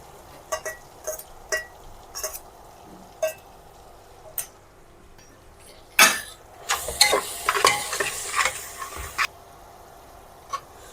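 Ginger, garlic and coriander paste sautéed with tomato in a pan for masale bhat: scattered spoon clinks and scrapes, then a burst of loud sizzling as the paste hits the hot pan, close up, no voices.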